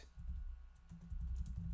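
Quick bursts of typing on a computer keyboard, a close run of clattering keystrokes with brief pauses, no voices.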